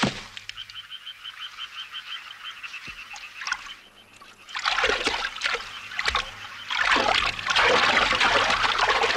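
A fox pushes a hedgehog into water, giving soft trickling at first, then loud bursts of splashing and sloshing in the second half.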